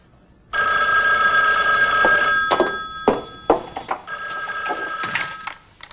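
A telephone rings during an outgoing call, a loud, close ringing tone that sounds for several seconds, breaks off, then resumes briefly before fading.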